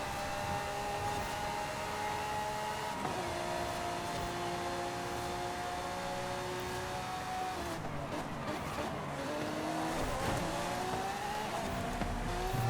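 Ferrari race cars in Forza Horizon duel for the lead, engines whining loudly and continuously as they shift through gears, with tire squeal and a rough scrape of contact near the end.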